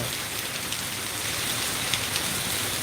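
Heavy rain pours down steadily in a Punjab village at Bassi Pathana, a dense, even hiss of drops on surfaces with no pauses.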